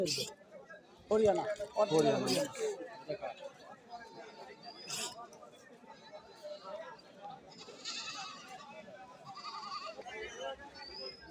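Goats bleat intermittently amid a busy crowd, with people talking and chattering nearby throughout an outdoor livestock market.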